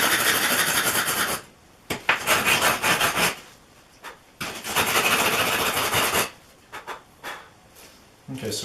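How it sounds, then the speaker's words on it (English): A wood rasp files a V-shaped notch in a wooden piece for a scrap-built blacksmith forge, coming as several long rough scraping strokes separated by brief pauses and a few short scrapes, fairly close. "file away with the wood rasp."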